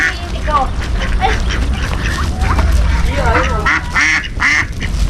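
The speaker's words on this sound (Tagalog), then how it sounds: "ang mga anak nyong pato" Ducks quacking in a yard, a cluster of nasal calls repeating irregularly at close range over people chatting, growing louder and denser toward the end.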